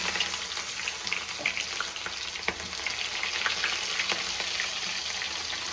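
Onions frying in hot oil with spices for a dal dish, a dense, steady sizzle and crackle with occasional faint stirring ticks, close and uninterrupted, no speech.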